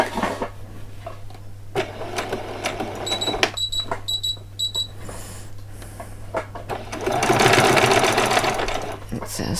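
A sewing machine stitches ribbon onto an old dress with short whirring bursts of stitching. A voice speaks between and over the bursts, and a longer, louder run of stitching comes near the end.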